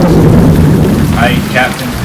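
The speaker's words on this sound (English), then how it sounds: "Captain, there's a storm brewing." Storm at sea with rain and thunder, a loud continuous roar of heavy rain and rolling rumble, with two brief high wavering tones near the end.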